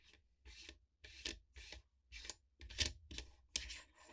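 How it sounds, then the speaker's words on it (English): Barrel nut being unscrewed on a Radikal NK1 bullpup shotgun, a rhythmic series of about eight short rasping, grinding turns, close and fairly quiet, with no speech. "simply unscrew the barrel nut"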